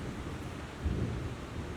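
Low rumble of thunder from an approaching storm, a broad dull roll that swells briefly near the middle, heard alone at moderate distance with no talk.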